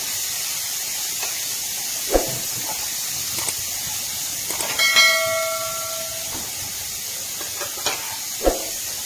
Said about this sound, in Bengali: গাজর, ক্যাপসিকাম, আর মটরশুঁটি, আর লঙ্কাটা এর মধ্যে দিয়ে দিলাম। এবার এটা অল্প ভেজে নিতে হবে।